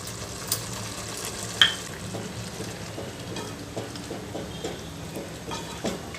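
Byadgi chilli paste frying in oil for a methi paneer gravy, a soft steady sizzle broken by light stirring scrapes and a few sharper clinks of a spoon against the pan, with no voices.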